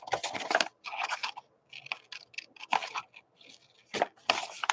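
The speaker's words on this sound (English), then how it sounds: "Okay, now I'm going to finish fussy cutting." Scissors fussy cutting paper for a mixed media napkin journal, close crisp snips and rustling cuts coming in irregular bursts with short pauses between.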